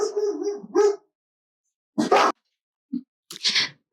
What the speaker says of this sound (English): if you guys can hear my dogs barking